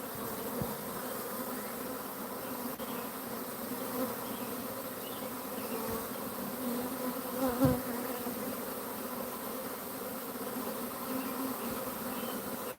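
A swarm of bees or wasps gathered on a table outdoors, a continuous dense buzzing drone that holds steady and close throughout with no voices.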